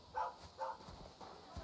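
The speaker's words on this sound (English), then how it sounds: "You silly doggy." Dog barks in the medieval role-playing game Kingdom Come Deliverance 2: two short, fairly close barks early on, then softer follow-up yaps over a quiet ambient game background.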